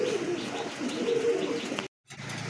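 Pigeons in a pigeon showroom coo softly and repeatedly with a few light chirps, fairly quiet and close, cut by a brief gap of silence near the end.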